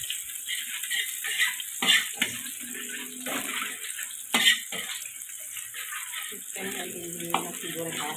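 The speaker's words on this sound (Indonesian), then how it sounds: "mau tumis bawang merah sama bawang putihnya dah tuh" Shallots and garlic stir-frying in a wide wok, with a steady soft sizzle broken by scraping and stirring clatters, the clearest knocks near the start and middle, and faint talk now and then.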